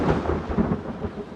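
Thunder from lightning in a wildfire storm cloud gives a deep, rolling rumble with uneven low surges, fairly loud and with no voices.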